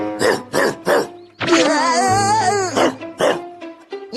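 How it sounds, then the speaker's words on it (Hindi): A cartoon dog in Doraemon gives a rapid run of sharp barks, then a drawn-out wavering whine or howl, and resumes with more barks. The barking sounds close and clear. "ये डॉगी हमेशा मुझ पर भौंकता है।"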